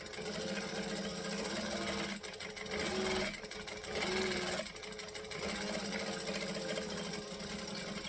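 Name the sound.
sewing machine stitching and back stitching a bag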